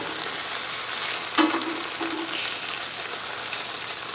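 Ham slices sizzle on a Blackstone flat-top griddle in a steady, close frying hiss, with a brief clatter of a utensil partway through and no talk.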